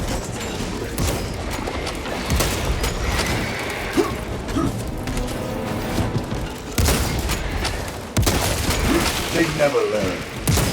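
Heavy bolter fire rattles out in rapid bursts in Warhammer 40,000 Space Marine 2, booming and mechanical amid a loud, dense battle mix, with a voice speaking briefly over the combat.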